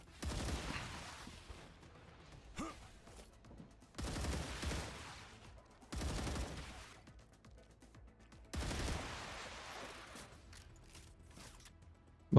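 Gunfire from a weapon in the video game StarRupture: several loud, sustained bursts of rapid shots, each lasting a second or two and separated by quieter gaps, close and dominant.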